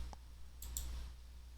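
A couple of quick, light computer mouse clicks close by against a quiet room background, with no talking.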